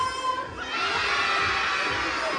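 A group of children shout together at an event, a loud sustained crowd roar of young voices that swells after a brief dip and holds.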